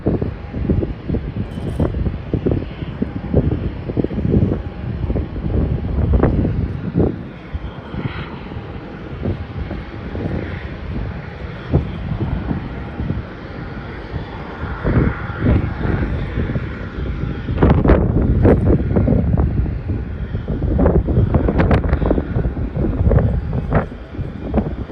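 Gusts of wind buffet the microphone at an airport in uneven rumbling bursts, with a distant landing aircraft's engine droning underneath.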